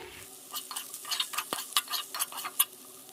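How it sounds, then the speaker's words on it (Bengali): Potatoes and onions frying in a wok, stirred with quick, repeated scraping strokes over a constant close sizzle. "আলু পেঁয়াজকালি ভাজা আমার কমপ্লিট হয়ে গেছে"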